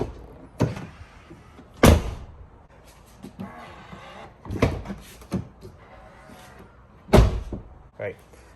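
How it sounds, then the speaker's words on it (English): Tesla Model Y fitted with aftermarket soft-closing doors, shutting with several soft thuds and a muted latch-and-cinch sound at close range, with brief bursts of speech between them. "you also get that luxury door closing sound."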